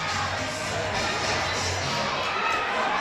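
A crowd fills a high school gym at a junior varsity game, a steady dense murmur of voices with faint shouts and cheers rising from the general din.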